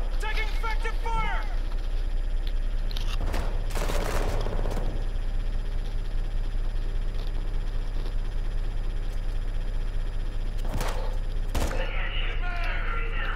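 Rapid automatic gunfire and scattered shots ring out in a Call of Duty: Modern Warfare II match, bursting loudly in clusters over a steady low background hum, with a voice speaking between the volleys.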